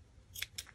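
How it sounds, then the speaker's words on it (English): Two quick crisp snips of scissors cutting tassel threads at a craft table, close but quiet, with a dull blade and no talk. "those scissors aren't very sharp"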